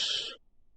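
Watering a farm plot in the video game Abiotic Factor: a short, bright splashing hiss lasting about a third of a second, fairly close, then cutting off into near silence.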